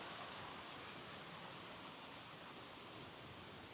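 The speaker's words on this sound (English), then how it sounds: "the water's rushing from this estuary here" Water rushes out of a tidal estuary past a sand bar as a faint, steady broadband hiss with no breaks.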